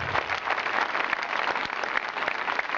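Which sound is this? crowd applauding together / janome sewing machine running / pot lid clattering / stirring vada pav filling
crowd applauding together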